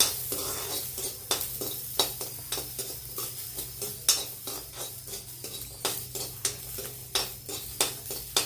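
Garlic and ginger roast in a little oil in a pan for a Marathi amti, with a soft, low sizzle under regular scraping and clinking stirring strokes, quiet and close.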